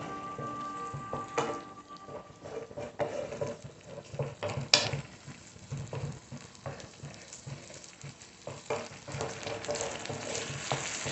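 Matar paneer masala with cashew paste and spice water is sautéed in a pan, giving an uneven bubbling sizzle broken by repeated scraping and stirring knocks, close by and moderately loud.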